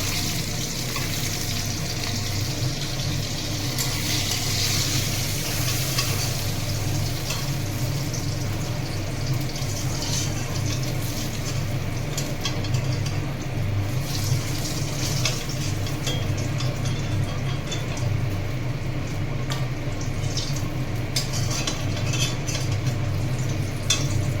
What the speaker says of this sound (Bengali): মাছ ভাজা হয়ে গেছে, এবার একটা একটা করে নামিয়ে নেব।